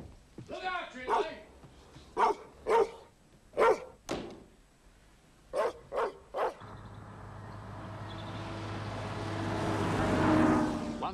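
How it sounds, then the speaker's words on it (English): A dog barks in a run of sharp, separate yelps spread across the first half, with people talking around them. A rising, rushing noise then builds toward the end. "Look out the dog!"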